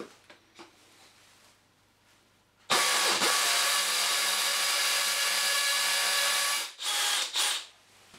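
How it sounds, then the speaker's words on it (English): DeWalt DCD796 18V brushless cordless drill in top speed, hammer-drilling a concrete block with a masonry bit: a loud, steady rattling drone after quiet handling, running several seconds before stopping and briefly restarting in short bursts. "I'm now going to drill this concrete block"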